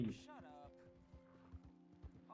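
Horse hooves clip-clopping at a steady walking pace in the video game Red Dead Redemption 2, fairly close and moderately loud, with a brief whinny at the start and someone talking over it.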